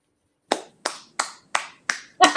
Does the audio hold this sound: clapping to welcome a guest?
yes